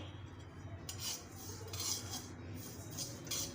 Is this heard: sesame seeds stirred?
yes